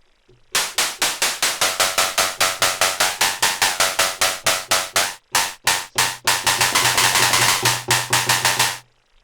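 An Arturia MiniBrute 2S synthesizer plays a rapid, steady string of loud, sharp synthesized hi-hat hits with a bright, slightly distorted, gunshot-like crack. There is a brief stutter partway through, then the pattern resumes and dense hits continue to the end.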